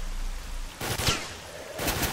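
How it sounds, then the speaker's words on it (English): Gunfire from stalkers in S.T.A.L.K.E.R. Misery: two or three sharp shots, one near the middle and another near the end, over a low ambient hum, with no talk. "They're shooting at me."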